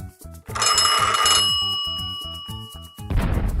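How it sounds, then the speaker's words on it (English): A telephone bell ringing in a fast, bright metallic trill that lasts about a second, leaves a fading ring, and plays over a steady rhythmic music bed, followed by a burst of noise at the end. "That's a phone ringing."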